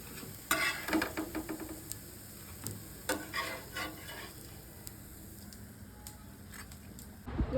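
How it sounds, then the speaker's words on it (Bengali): Food sizzles as it fries in a pan, with scraping and clinking strokes of a spoon stirring it in irregular bursts close by, the frying hiss continuing underneath throughout. "ভালোভাবে ভাজা ভাজা হয়ে গেছে"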